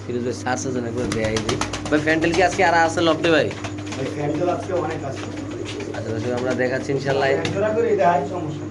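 American pigeons coo steadily and close by while people talk over them, with a constant hum underneath.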